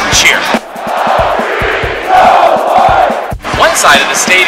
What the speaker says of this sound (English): Traditions here at Michigan State, and probably my favorite, is the Go Green, Go White cheer.